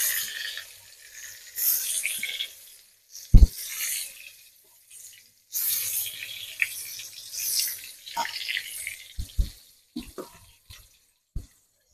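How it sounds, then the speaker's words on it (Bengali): Pieces of pointed gourd (potol) sizzle in hot oil in a pan, frying in loud bursts broken by quiet pauses, with no talking. "দেখো, পটলগুলো আমি ভেজে নিচ্ছি।"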